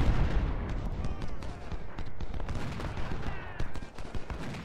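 Civil War cannon and rifle fire from the video game Ultimate General: Civil War at Gettysburg, July 2nd: a continuous stream of sharp shots and muffled booms at mid distance, with a voice talking over them.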